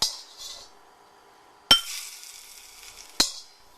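Hot oil poured over green onions crackles and sizzles sharply in two loud bursts, each fading into a steady hiss, with a faint clink of utensils near the start.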